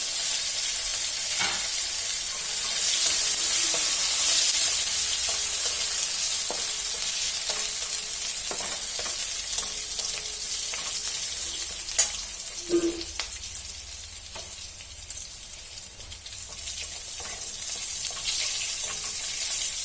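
Grated ginger fries in oil in a pan while mustard hilsa curry is being cooked. A steady, quiet sizzle runs throughout, with occasional soft stirring clinks and scrapes close by, and no talking.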